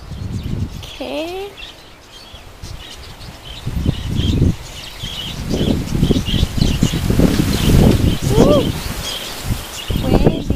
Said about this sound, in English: There's crazy birds here